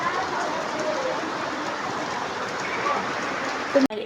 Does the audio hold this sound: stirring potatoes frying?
no